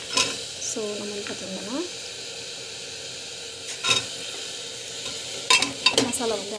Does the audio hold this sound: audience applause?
no